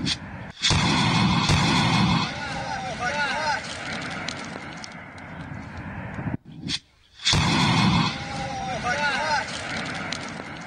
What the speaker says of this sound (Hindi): ये जो धमाका आप सुन रहे हैं, ये धमाका है तालिबान के तोपखाने को उड़ाने का